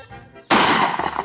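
A single sharp gunshot, apparently from a Remington rifle or pistol, cracks loudly and decays into a short noisy tail, with no talk over it.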